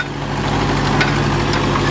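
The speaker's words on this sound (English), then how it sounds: "I didn't think my tractor had that much power." A steady, loud engine rumble idles and runs continuously, low and even throughout with no speech.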